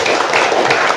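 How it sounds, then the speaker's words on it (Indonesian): Short burst of dense applause from a classroom group, steady and loud throughout with a faint voice underneath. "Tepuk tangannya mana?"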